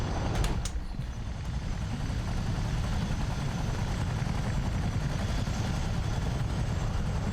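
A CH-47 Chinook helicopter in Microsoft Flight Simulator idles on a lawn: a steady, loud low rotor and engine rumble runs through the whole stretch, with a brief crackle of higher noise near the start and no talking.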